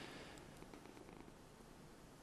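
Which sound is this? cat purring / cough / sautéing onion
cat purring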